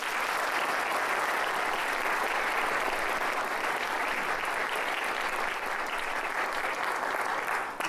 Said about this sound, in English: Please give these students a great round of applause.